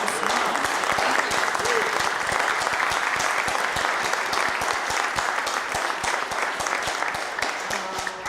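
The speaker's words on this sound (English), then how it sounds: "Can we give a round of applause to all the great men and women in this room?" Sustained applause from a large audience in a hall at a formal gathering, dense steady clapping that stays loud and even for the whole stretch before slowly thinning at the end.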